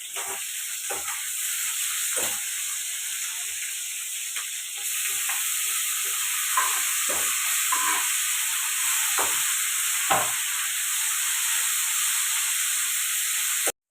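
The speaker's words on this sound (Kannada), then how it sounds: "ಹಸಿಮೆಣಸಿನಕಾಯಿ ಕರಿಬೇವು ಈರುಳ್ಳಿ ಟೊಮೊಟೊ ಎಲ್ಲ ಒಂದೇ ಸಲ ಹಾಕೊಂಡು ಫ್ರೈ ಮಾಡ್ಕೊಂಡಿದ್ದೀವಿ" Green chillies, curry leaves, onion, tomato and garlic fry together in a pan, a steady hiss with intermittent spoon scrapes and pops, close and fairly loud.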